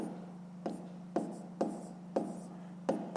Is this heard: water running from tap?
no